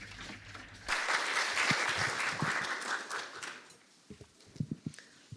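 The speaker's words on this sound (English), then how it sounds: "Please welcome her with a round of applause." Audience applause at an international climate policy forum, a broad wash of clapping that starts abruptly and holds steady for a few seconds, then fades out, leaving a few scattered late claps in a quiet hall.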